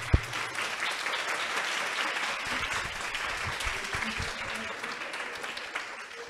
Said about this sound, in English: I hope you can listen to people clapping for you.